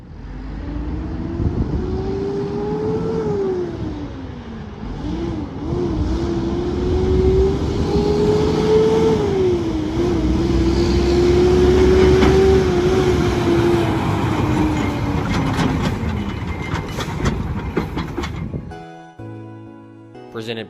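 A 2007 Mack Granite CV713 truck engine runs steadily at close range, its drone rising and falling gently as it idles and revs for about nineteen seconds before cutting off.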